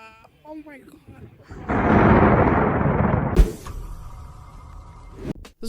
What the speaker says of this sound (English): This is what it's like to get struck by lightning when you're in the cockpit of a plane.